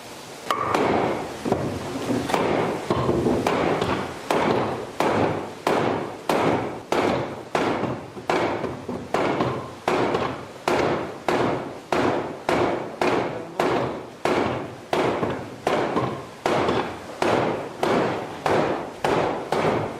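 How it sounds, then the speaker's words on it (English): A 17th-century water-driven trip hammer at the historic Frohnau hammer mill pounds metal in a steady, rapid rhythm, each loud heavy strike ringing briefly, repeating unbroken for the whole stretch. "we're going to get a demonstration of the old hammer technology now."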